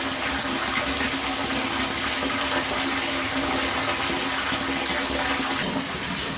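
Hot water runs steadily from a tap into a clogged drain basin, a constant gushing rush close by, with no voices.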